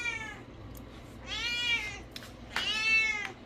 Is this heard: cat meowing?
yes